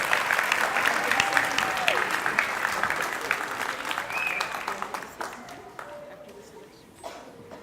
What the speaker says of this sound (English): Please give her a big round of applause for tonight's honoree, Dr. Sylvia Rios.